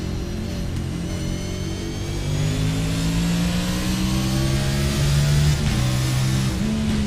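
NASCAR Cup race car at Martinsville in a racing game, heard on board: a steady loud engine drone whose pitch climbs, drops at a gear shift, then climbs again, with no talk.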